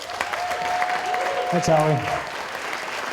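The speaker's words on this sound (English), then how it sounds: "let's give a big round of applause for MedServe." Audience applause for a startup pitch team at a university startup competition finale, a diffuse wash of clapping under a brief spoken thanks.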